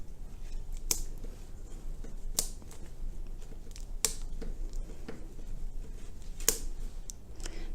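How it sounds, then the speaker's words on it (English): Florist's scissors snipping flower stems from a bunch, several crisp separate cuts spaced a second or two apart over a faint rustling background, close and quiet, no talking. "So I'm actually going to cut it from the bunch at exactly the same height."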